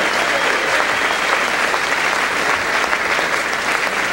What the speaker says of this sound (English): how about one final round of applause for Bob Wieland?